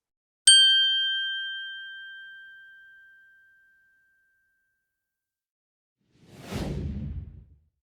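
A single bright bell ding rings out and slowly fades, followed a few seconds later by a soft rushing whoosh.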